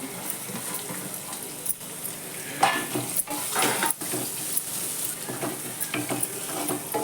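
Onion frying in a pan for ridge gourd chutney, a continuous sizzle broken by several sharper scraping stirs, close and clear with no talking.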